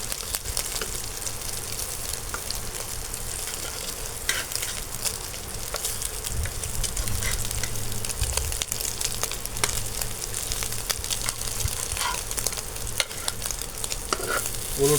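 Four eggs with chopped onion frying in a pan, a continuous close sizzle and crackle with occasional scraping as they are stirred and turned, no talking.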